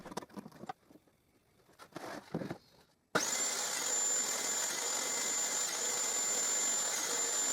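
A saw with a jig cuts the corners of a wooden box for splined miter joints. It bursts on abruptly after quiet handling noises and holds a loud, steady whine with a high tone to the end.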